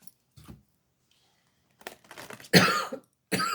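A couple of sharp, close coughs, one short and one louder, separated by a brief pause, with quiet breathing before them.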